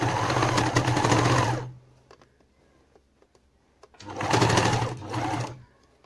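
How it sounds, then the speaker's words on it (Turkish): A sewing machine stitching a fabric pincushion runs in two loud, rapid whirring bursts of about one and a half seconds each, separated by a quiet pause with small clicks and handling noises. "Dikmeye başlıyorum."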